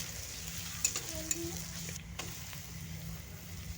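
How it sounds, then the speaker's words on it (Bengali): Onions frying in a pan for a jackfruit momo filling, with a steady low sizzle and a few soft stirring scrapes, heard close with no talk. "পেঁয়াজটাকে একদম ভালো করে ভেজে নিব,"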